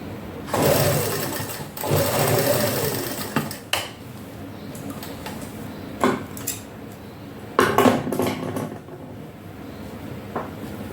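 A sewing machine stitches the hem of a salwar in loud rattling bursts that stop and start, with clinks and shuffles of handling in between.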